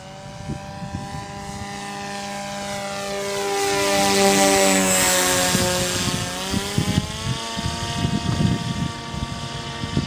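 Modified drone in flight with whining electric motors and propellers, tonal buzz sweeping up and down in pitch as the throttle changes, swelling louder mid-flight then easing back, with gusty wind rumble underneath.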